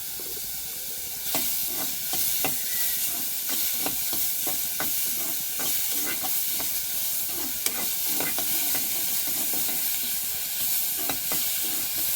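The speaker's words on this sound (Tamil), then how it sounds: "வெங்காயத்தை நல்லா வதக்கி விட்டுப்போம்" Onions are stirred and fried in a pan for a snail curry, a steady loud sizzle broken by regular scraping strokes of a spoon that repeat through the whole stretch, with no talking.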